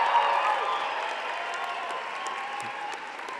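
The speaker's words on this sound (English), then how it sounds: "I invite the graduating class to reciprocate by applauding your family, friends, faculty, and staff" Graduating class at a university convocation ceremony applauding family, friends, faculty and staff, a dense, sustained wash of clapping from a large crowd that fades slightly toward the end.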